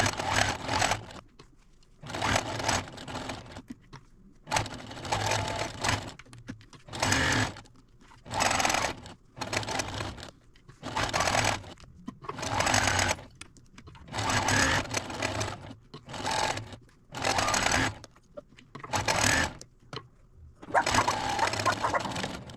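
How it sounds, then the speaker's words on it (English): Domestic sewing machine stitching a quarter-inch seam on a Christmas table runner, running in about a dozen steady close bursts of a second or so each, separated by brief pauses. "now I'm going to take it over the machine and sew 1/4 inch seam all the way down this side."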